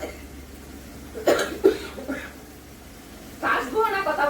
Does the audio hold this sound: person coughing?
yes